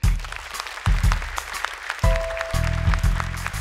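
An audience claps for a contestant on the Indonesian Quran-memorization talent show Hafiz Indonesia 2021. The steady applause swells at the start and again midway, with a studio music sting playing under it.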